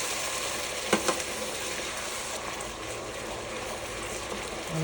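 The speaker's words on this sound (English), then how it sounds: "I'm going to go ahead and add 1 can of beef broth" Beef broth poured into meatballs frying in a pan over medium-high heat gives a steady close sizzle and bubbling, with a couple of sharp clatters early on and no talk.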